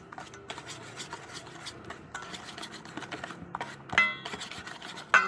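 Banana bread batter is stirred after an egg goes in, giving quiet rhythmic scraping and rubbing strokes against the bowl, with a couple of louder clinks near the end.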